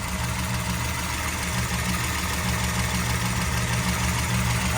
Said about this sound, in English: A lot of tapping over here.